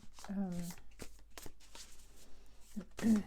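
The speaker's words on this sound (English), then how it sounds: "for some reason I feel like I should shuffle on camera" Tarot cards being shuffled by hand during a reading, a soft riffling flutter running under and between a nearby voice talking.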